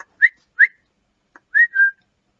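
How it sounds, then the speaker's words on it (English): Someone whistles a few short, clear notes close by. Two quick chirps are followed by a pause, then a longer rising-and-falling pair, all alone in silence. "Sorry about the whistling."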